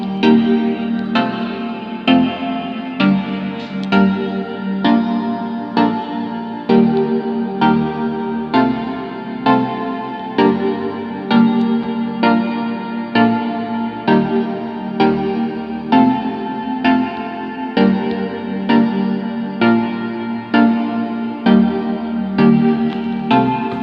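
Chord progression layer of an electronic track, a steady stream of sustained synth chords with effects and echo, changing in a regular rhythmic pattern at even loudness throughout, with no voices.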